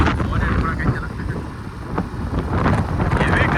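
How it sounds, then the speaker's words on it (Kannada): Wind buffets the microphone in a steady, loud rumble outdoors on an off-road trail near KRS, with gusts swelling and fading throughout and no clear voices over it. "ಗಾಳಿ ಐತೆ"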